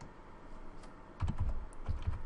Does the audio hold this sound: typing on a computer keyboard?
yes